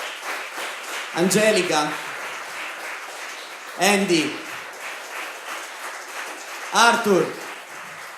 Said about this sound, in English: So thank you to Miguel, a big applause please.